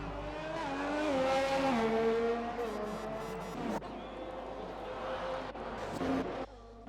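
Several racing cars in a sim-racing game at the Japan circuit pull into the pit lane, their engines droning and shifting pitch, with bursts of revving and a tyre squeal, loud and close.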